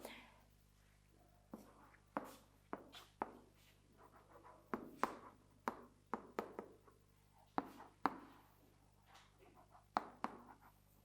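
A teacher writes on a board during a lesson, producing a series of sharp, irregular taps and scratchy strokes, fairly close, with quiet pauses between marks and no talking.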